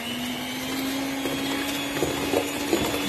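Brownie batter of melted butter and milk being mixed by an electric mixer, a steady motor whir running throughout with a few louder bumps near the end, no voices.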